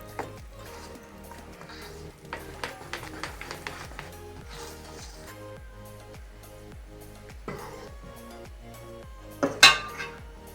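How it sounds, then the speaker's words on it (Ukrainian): Repeated rhythmic clinking and scraping of a spoon against a bowl while mixing bread dough, steady and close, with a louder clatter near the end. "Вже в мене стільки тісто вінчиком перемішалося, тепер я ще ложкою."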